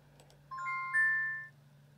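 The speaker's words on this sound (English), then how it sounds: "Dave, did you hear the chime?" A two-tone electronic timer chime rings out at the start of a life drawing session, a clear bright tone followed by a higher second tone that sustains and fades over about a second, alone over a low steady hum.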